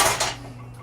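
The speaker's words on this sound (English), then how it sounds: "So I'm just going to set these on the stove." Two frying pans set down on a kitchen stove, making a couple of close metallic clanks in quick succession that ring briefly and fade.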